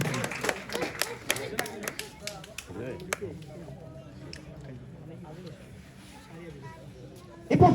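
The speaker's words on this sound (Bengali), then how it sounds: "সকলে করতালির মাধ্যমে সাধুবাদ জানাবেন" An audience at a club cricket grand final award ceremony claps in a brief burst of sharp hand claps that fades into quieter room noise, with a loud thump at the very end.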